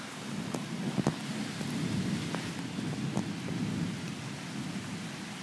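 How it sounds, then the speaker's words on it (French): Heavy rain pours steadily in a dense hiss during a strong multicell thunderstorm in Amboise, France, with a few sharp drips and taps standing out against the constant downpour. "c'est une belle pluie battante"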